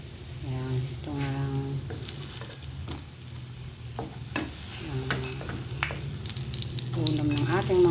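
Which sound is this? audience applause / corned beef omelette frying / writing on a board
corned beef omelette frying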